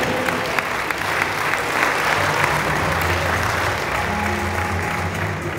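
Audience applause at a municipal staff recognition event, continuous crowd clapping of even loudness with some murmuring underneath.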